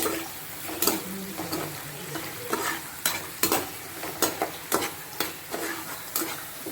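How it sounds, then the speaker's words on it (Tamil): Mushrooms with ginger and garlic sauté in a pan for a mushroom gravy, oil sizzling steadily while a utensil scrapes and stirs in repeated sharp strokes, close and fairly loud, with no voices. "காளானை சேர்த்துட்டு அதையும் வந்து நல்லா வதக்கி விட்டுக்கணும்"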